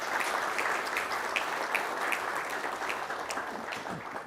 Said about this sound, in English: give everybody that works for the government a round of applause